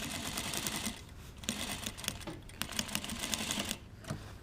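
A sewing machine runs in short bursts of rapid stitching while a jacket sleeve facing is sewn for a Vogue 9039 jacket, its chattering steady and close with brief pauses between runs.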